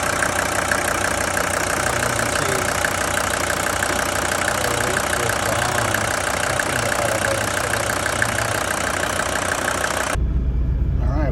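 A 1983 Mercedes 300D W123 diesel engine idles smoothly after a Bosch injection pump leak repair, a steady close clatter and hum that cuts off abruptly near the end.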